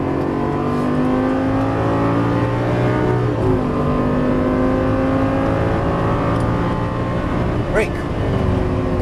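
Lamborghini Gallardo on a race track, engine holding a steady high note then shifting and pulling again under acceleration, loud and continuous from onboard, with a voice speaking over it.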